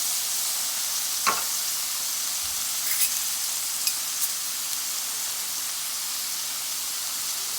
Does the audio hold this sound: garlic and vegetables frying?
yes